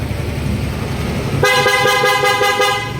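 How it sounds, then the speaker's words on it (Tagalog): A Yamaha Fazzio scooter's dual horn setup blares loud and close after a quiet idle rumble, holding a bright sustained honk with a faint rapid pulsing for the rest of the moment. "Naka dual horn setup na rin siya."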